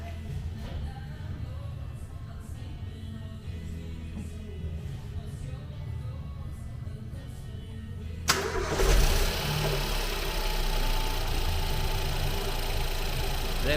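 A 1.0L Ford Fiesta EcoBoost, just fitted with a new wet belt, cranks under a steady background, fires with a sudden loud catch, then settles into a close, even idle.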